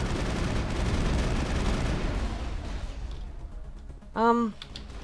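Gunfire in the video game Mass Effect, a dense rumbling stream of shots and impacts running through the first few seconds, then a brief harmonic tone near the end.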